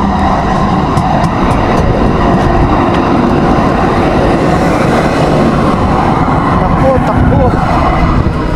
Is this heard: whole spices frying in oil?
no